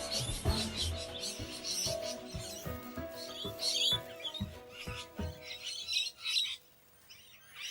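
Curious, social parrots calling, with squawks and sharp chirps repeating in an uneven rhythm over a steady background hum, fairly close and moderately loud.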